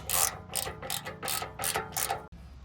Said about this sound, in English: Make sure you have this long socket. It's a 14 millimeter. Start tightening these bolts.